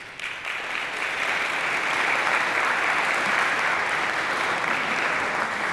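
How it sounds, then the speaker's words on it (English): Sustained audience applause for students receiving awards at an essay contest ceremony, a steady, full round of clapping from a large room that holds evenly for several seconds without speech. "Ladies and gentlemen, give them a round of applause."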